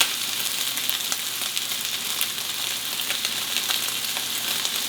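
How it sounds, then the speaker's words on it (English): Ribeye steak searing in an oiled pan, a dense, steady close-up sizzle and crackle of hot fat that holds constant throughout with no talk. "So you can see here, you have like a really good sear so far."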